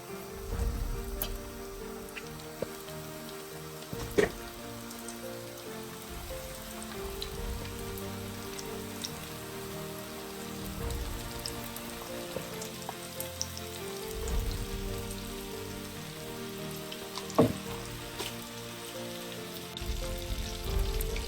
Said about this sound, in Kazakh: Мінекей достар, майымыз қызып тұр. Осылай бір қыздырып аламыз да наггетсиді салатын боламыз.